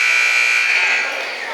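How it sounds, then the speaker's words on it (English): Basketball game warning buzzer at a boys high school game between Westwood and Bishop Feehan, one loud steady electronic blare held for over a second in a gym. "That our first warning buzzer."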